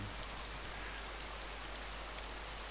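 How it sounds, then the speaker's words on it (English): Steady rain pouring down in the survival game DayZ, an even, continuous hiss filling the scene with no breaks or other sounds standing out. "Shelter from this nasty rain."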